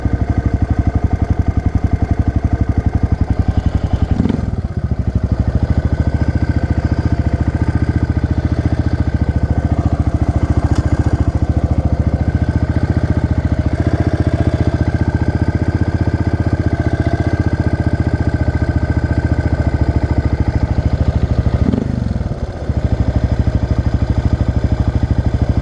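A Honda 300 engine fitted with an economy clutch runs steadily, a loud close mechanical drone that holds near idle throughout, with a couple of brief dips.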